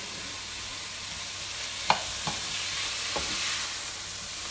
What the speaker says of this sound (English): Now this is just a simple little stir fry. And I just got some onion